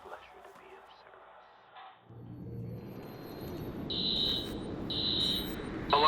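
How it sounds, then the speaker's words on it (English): An alarm tripped in the video game Watch Dogs, sounding as two steady high-pitched electronic tones in the second half over a low rumbling game ambience, with no talk heard. "Alarm's been tripped."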